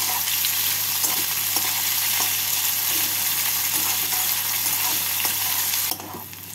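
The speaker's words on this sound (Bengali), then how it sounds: "পেঁয়াজগুলোকে হালকা লাল করে ভেজে নিচ্ছি" Three medium chopped onions fry in hot oil until lightly reddened for egg keema curry, a loud, continuous close sizzle with a low steady hum beneath, softening abruptly near the end.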